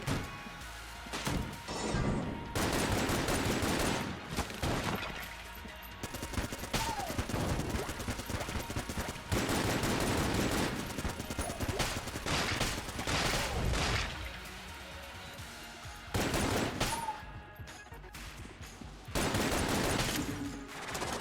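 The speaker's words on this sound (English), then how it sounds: "these gun boot shots, they last for quite a while" Gun boot shots fire in the video game Enter the Gungeon: loud, repeated bursts of rapid blasting and crashing impacts, broken by short pauses, running almost continuously.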